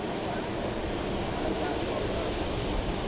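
Qantas Flight 8, an airliner taxiing slowly toward Terminal D at DFW Airport at night, a steady broad distant engine roar and whine, continuous and even throughout.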